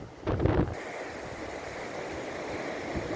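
Strong storm wind buffets the microphone on the Brittany coast near Landunvez, a loud gust at first and then a steady roaring rush with surf noise underneath.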